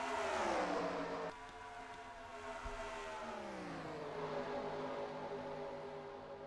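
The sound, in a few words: truck engine in a truck racing video game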